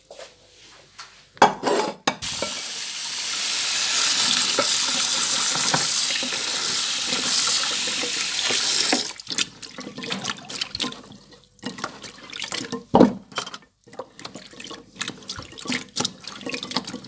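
Garlic beans being washed under a running kitchen tap, a steady rush of water for several seconds followed by irregular splashing, rinsing and clattering as the beans are handled in the water.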